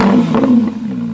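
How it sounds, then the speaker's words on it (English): A Porsche GT3 RS fitted with a JCR exhaust starts and revs, a loud, close, deep rasping engine note that swells briefly before settling into a steady throaty idle. "So here's the sound of his car."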